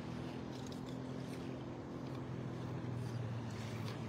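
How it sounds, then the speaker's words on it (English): A motorboat engine hums low and steady in the distance as the boat heads out a pass off a beach at Delnor-Wiggins in North Naples, Florida, a faint continuous drone under outdoor wind and ambient noise. "here's another boat heading out the pass behind me."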